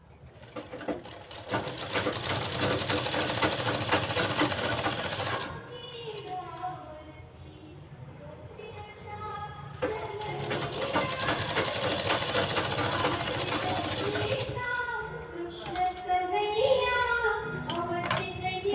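A domestic sewing machine stitching a finishing seam on a blouse, running in two long buzzing bursts separated by a quieter pause, close and steady, with no talking.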